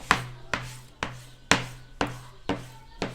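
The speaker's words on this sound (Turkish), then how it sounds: "750 gram tavuk göğsü aldım. Bunu kuşbaşı şeklinde doğruyorum." A knife chops raw chicken breast into cubes on a board in steady strokes, seven sharp cuts about half a second apart, each followed by a short scraping rasp, close and clear.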